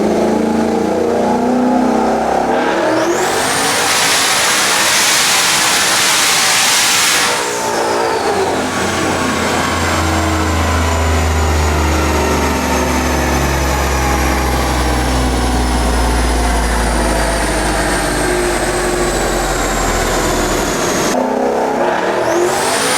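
A high-horsepower car engine revs hard and climbs through several gear changes, loud and close, with rising whine and deep exhaust rumble sweeping up and dropping between shifts, no talk.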